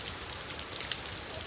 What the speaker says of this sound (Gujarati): વરસાદ આવવા માંડ્યો.